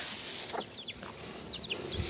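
Chickens at a remote mountain-top home give a few brief, fairly close clucks and chirps scattered over steady outdoor background noise, with no voices.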